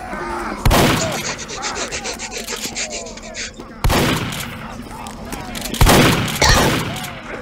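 Heavy's minigun in Team Fortress 2 revs and fires in loud, rapid bursts, each starting with a sharp blast and rattling on, with a hard break before the next burst.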